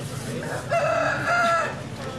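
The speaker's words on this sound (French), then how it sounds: "Regarde le coq." A rooster crows once in a drawn-out call, clear and moderately close over a low background rumble, heard from a train journey.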